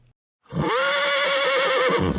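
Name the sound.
wild horses neighing, Sundre Alberta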